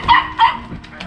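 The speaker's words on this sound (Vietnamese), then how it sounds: "Nhà tuy là thiếu ăn nhưng mà nuôi chó quá trời." Dogs kept at a poor rural home beside fields bark two or three times in quick succession, moderately close, with a faint murmur of voices underneath.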